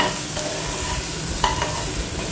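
A spoon stirs chana dal with a bay leaf in an oily pot, scraping steadily with a low sizzle underneath and a couple of light knocks against the side, close and fairly loud.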